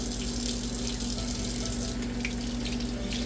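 Tap water runs steadily into a kitchen sink while small onions are rinsed under the stream, a constant close hiss and splash with no pauses and no talking.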